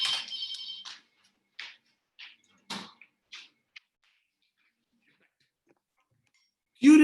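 A phone ringtone sounds briefly at the start, followed by scattered short clicks and taps, then a burst of speech at the end, during a talk in a school knowledge series.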